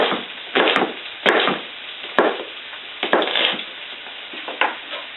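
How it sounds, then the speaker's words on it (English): Chopped onion is stirred into guacamole in a bowl, making a few soft, wet scraping strokes close by at an uneven pace, with no talking. "stir that up real quick."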